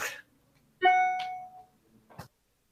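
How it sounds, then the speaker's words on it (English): A bell rings out once during a game at a live adult comedy show, a clear sustained ding that fades over about half a second, followed by a brief burst of crowd noise. "Oh, and the bell went off"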